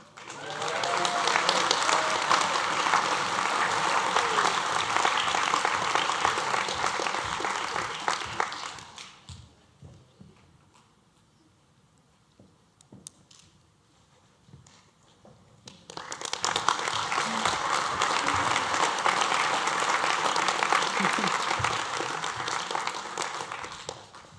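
A crowd at a graduation ceremony applauds loudly for several seconds, falls quiet during a brief pause, then bursts into another long, sustained round of clapping.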